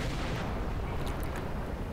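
Tank cannon fire from an American Ontos M50 tank destroyer in the War Thunder video game, heard as a dense, loud, continuous rumbling boom with gunfire-like crackle lasting the whole stretch, no voice over it.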